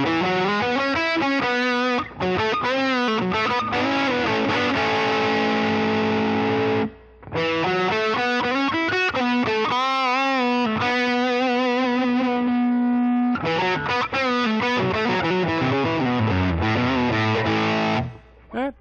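Electric guitar played through a Helix Voltage Queen amp model with a ripple modulation effect, giving a continuous distorted, harmonically rich tone with strummed chords and sustained notes, and brief pauses between phrases.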